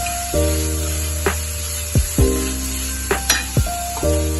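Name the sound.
masala frying and stirring on low flame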